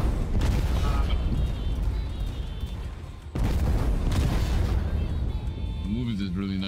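A heavy Colossal Crusher attack move in Blox Fruits sounds as dense, booming explosive impacts filling the stretch, with a sharp renewed blast midway and a rising whoosh near the end, under a player's talk.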